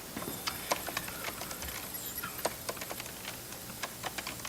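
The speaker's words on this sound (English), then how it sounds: "I'm just pressing keys." Keys tapped on a computer keyboard in a quick, irregular run of close, crisp clicks, with no talking.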